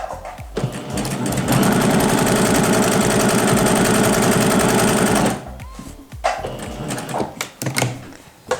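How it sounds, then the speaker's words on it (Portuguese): A sewing machine stitches patchwork fabric along a marked line on a foundation, running in one loud, steady burst for several seconds before falling quiet amid light fabric handling. "Agora, costura bem certinho em cima da linha."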